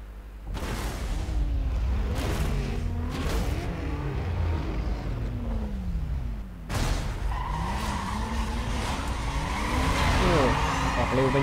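A car in Need for Speed Most Wanted 2005 accelerates hard with rising engine sweeps, repeated tire squeals and skids, and a brief drop before the revving picks up again, while someone talks over the game sounds.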